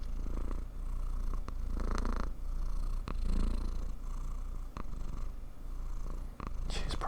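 A domestic cat purring steadily and close, a continuous low rumbling pulse held for several seconds with brief pauses for breath, and no talk over it.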